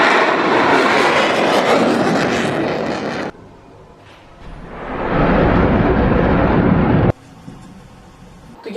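Ballistic missiles launch one after another in news footage: a loud, roaring rush swells and sustains for several seconds, drops to a quieter rumble, then surges again with a second long roar before cutting to a thinner hiss.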